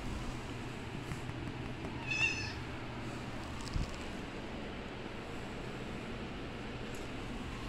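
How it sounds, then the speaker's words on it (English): A house cat meows once, a short clear call over steady low background hum in a quiet indoor room, with no talk. "A cute kitty."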